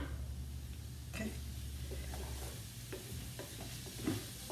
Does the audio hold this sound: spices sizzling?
yes